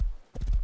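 Horse hooves clip-clopping in the survival video game Rust, a short burst of several quick, fairly close hoof hits after a brief gap, alone with no talk.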